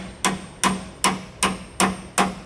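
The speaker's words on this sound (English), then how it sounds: "let me grab a hammer and we'll tap those" Hammer tapping heavily corroded bolts through attachment holes while mounting a Roadmaster front anti-sway bar on a 2015 Winnebago Vista motorhome: six sharp metallic strikes at a steady rhythm, close and clear, with no talk.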